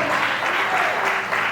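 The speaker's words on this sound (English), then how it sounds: "Clap your hand." Continuous applause fills a wedding ceremony, many hands clapping steadily and fairly loud throughout, with a crowd sound and faint voices blended in.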